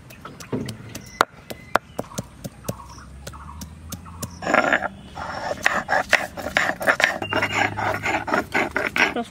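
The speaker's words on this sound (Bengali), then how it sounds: "আদাটা বেটে নিই।" Fresh ginger is ground into paste on a village-style grinding stone, with rough rhythmic rasping and scraping strokes, scattered sharp clicks, and a denser, louder grinding stretch in the second half.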